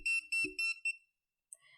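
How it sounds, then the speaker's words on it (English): A handheld non-contact voltage tester sounds a rapid series of four shrill, close electronic beeps, then falls silent before a faint short chirp. "This non-contact volt stick will beep if it detects voltage, even though it's not touching a live wire."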